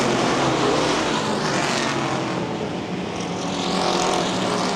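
Street stock race cars roar around a dirt speedway at a Hall of Fame 50 event, a dense, continuous engine drone filling the track with a slight swell and fade as the pack passes.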